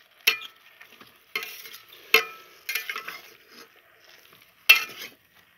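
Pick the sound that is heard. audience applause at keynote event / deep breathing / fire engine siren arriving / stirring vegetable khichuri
stirring vegetable khichuri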